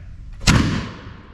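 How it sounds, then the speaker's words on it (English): A single loud musket shot booms out at a Jamestown Settlement firing demonstration, a sharp blast followed by a rumbling decay that fades over about a second, with no voices. "I just fired my musket."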